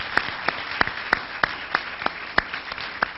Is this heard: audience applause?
yes